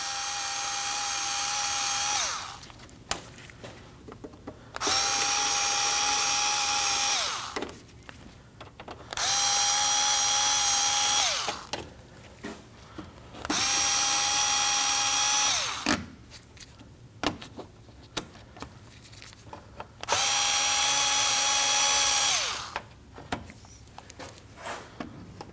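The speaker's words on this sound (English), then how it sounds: "So use a screwdriver, go ahead and take those out." A power screwdriver removes plastic clips from a 2011-2016 Kia Optima front bumper cover in five loud whirring bursts of about two seconds each. Short clicks and handling noises fill the quieter gaps between them.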